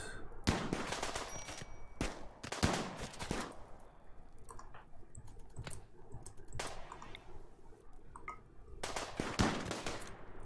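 Colonists fire guns in a Rimworld sea ice battle, producing scattered sharp shots and short bursts at irregular intervals, some loud and close, others softer, with quiet gaps between volleys.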